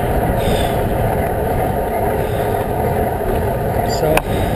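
Steady broadband roar of west wind blowing off the end of a lake into a headwind, constant and close, like gusts buffeting a microphone, with a brief thump near the end.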